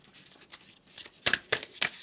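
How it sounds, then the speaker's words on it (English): A deck of tarot cards being shuffled close by: a few soft riffles at first, then three sharp, louder bursts of card flutter in quick succession, with no talk. "shuffling the deck"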